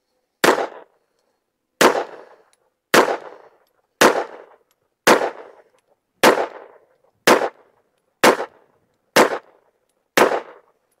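Ten pistol shots from a Taurus G3 Tactical fired at a target with iron sights, sharp loud cracks spaced about a second apart in a steady, unhurried rhythm, each decaying quickly into silence.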